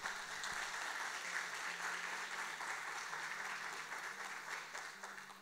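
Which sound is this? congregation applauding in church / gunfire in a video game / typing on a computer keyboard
congregation applauding in church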